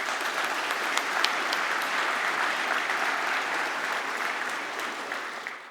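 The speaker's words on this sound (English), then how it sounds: "Can we give them all a big round of applause?" Audience applause at the Science New Zealand Awards ceremony for the evening's finalists and winners, a steady, dense wash of many hands clapping that holds evenly for several seconds with no talk over it.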